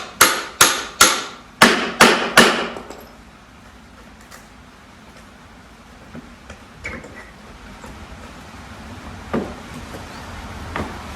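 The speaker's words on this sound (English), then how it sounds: "Again, got the crowbar around the nail this time." A crowbar is hammered in to pry nails out of a wooden pallet: about eight sharp, ringing metal-on-wood strikes in quick succession, then quieter creaks and scattered clicks.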